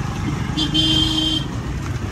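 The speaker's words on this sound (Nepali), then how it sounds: "हर्न लगाइदिनु भयो मेरो बुढोले" A car horn sounds once in a single steady toot lasting under a second, loud and close over a running vehicle and road noise.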